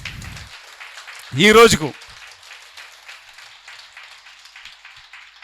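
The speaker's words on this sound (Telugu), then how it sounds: "ఒకసారి గట్టిగా చప్పట్లు" An audience at a meditation gathering in Naimisharanyam, Uttar Pradesh, claps in a steady, fairly soft patter that runs throughout, with a brief spoken phrase cutting in near the start.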